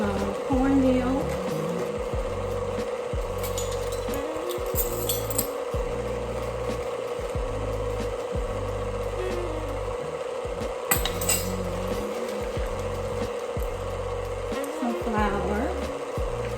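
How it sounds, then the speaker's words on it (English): A whisk works cornmeal in an empty mixing bowl, making soft scraping and light clinking against the bowl in a steady rhythm, heard close over a low background hum with faint murmured voice. "I'm gonna whisk together some cornmeal,"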